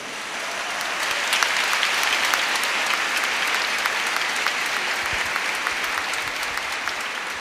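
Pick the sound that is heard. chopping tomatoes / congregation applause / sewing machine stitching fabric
congregation applause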